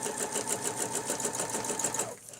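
A sewing machine runs steadily, stitching quilt channels along a ruler, its fast even needle whir loud and close before stopping abruptly near the end.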